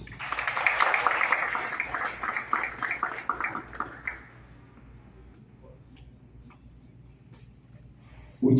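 Audience applause at a youth government investiture ceremony in Haiti, a burst of clapping for about four seconds that quickly fades into quiet room tone.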